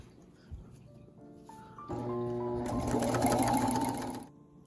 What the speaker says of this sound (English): as I'm sewing, I'm using my second free hand to like pull this way to make sure everything is folded out of the way as I'm stitching along here